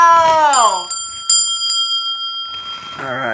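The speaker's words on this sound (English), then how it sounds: "Ring the damn bell! Ring it!" A bell rings out in sharp, sustained tones during a lively show, struck more than once with bright lingering overtones, flanked by raised, sung-like voices before and after.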